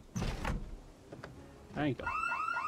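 A car alarm starts up in Project Zomboid, a rising and falling electronic siren that begins after a door thunk and a clatter, with a voice speaking briefly beforehand.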